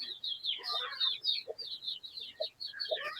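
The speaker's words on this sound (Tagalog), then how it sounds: "ito yung manok na basilan." Basilan chickens in a backyard under a rainy sky give soft clucks and high chirping calls in quick, uneven bursts, fairly faint, with a few low voice-like murmurs mixed in.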